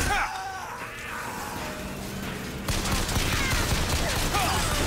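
Gunfire and combat noise from the video game BioShock Infinite, a dense loud continuous barrage of shots and impacts that grows heavier partway through, with a voice briefly audible underneath.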